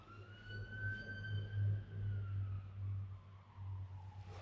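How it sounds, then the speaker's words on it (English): Faint ambulance siren wailing in long rising and falling tones outside, heard from indoors over a low steady rumble of passing traffic. "that's another ambulance"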